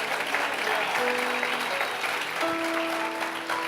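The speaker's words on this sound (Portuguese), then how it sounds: "Pelo amor de Deus, aplauda mais forte." A church congregation at a morning service applauds with continuous, moderately quiet clapping, and a voice or sustained tones ring faintly underneath.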